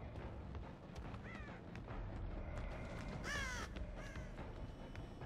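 In Dead by Daylight, a crow caws several times in short separate calls, the loudest one near the middle, over a dense layer of game ambience and rumble.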